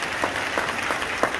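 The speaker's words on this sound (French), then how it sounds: "On peut l'applaudir." Audience applause, a short, even burst of clapping with a few sharper individual claps standing out.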